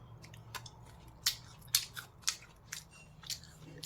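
A child eats a guava in a series of sharp, crisp crunching bites spaced about half a second apart, close and quiet with no talk.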